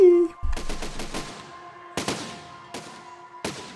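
Cannons on a massive fully armed robot in the video game Besiege fire in a rapid burst of sharp booms, then three more spaced blasts, each with a ringing tail over a faint steady hum.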